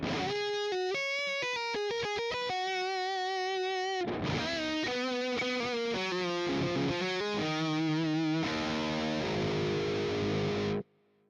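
Overdriven Balaguer electric guitar on its neck humbucker pickup, with a warm, gritty tone, plays fast picked notes, then ringing chords and bends, stopping abruptly near the end.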